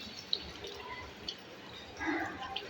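Water drips in a public restroom, a few isolated small plinks spaced irregularly against a quiet, hollow room tone, faint and close.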